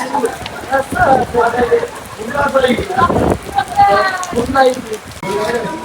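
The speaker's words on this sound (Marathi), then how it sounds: "जोरात पाऊस आलाय" Heavy rain patters steadily in the background near Ekvira temple in Lonavala while a person talks loudly over it almost the whole time.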